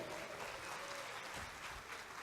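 A live talk audience gives a presenter named João Vicente a short, steady round of applause. The clapping is dense and sustained but fairly quiet, with faint crowd noise behind it.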